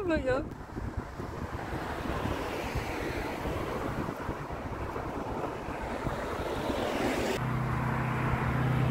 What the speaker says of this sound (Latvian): Vējš.